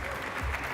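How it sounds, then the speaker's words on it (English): An audience at a cooking competition grand final claps steadily in a dense, continuous burst of applause. "Please give them a huge round of applause as well."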